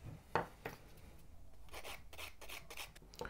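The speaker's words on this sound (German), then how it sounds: "wir feilen den Tipp, damit wir den Übergang wegkriegen" A nail file rasps along the edge of an artificial nail tip in quiet, soft scratching strokes. An early sharper stroke is followed by a run of faint, rhythmic rubbing passes.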